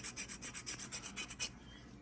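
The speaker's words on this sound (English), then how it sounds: "And then I'll go and roughen up the grain." Bark of a fig cutting roughened with a rasping tool, heard as about ten quick, close scraping strokes in an even rhythm that stop after a second and a half, with no talking.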